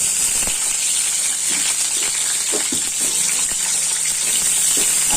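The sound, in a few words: whole potatoes frying in oil in a wok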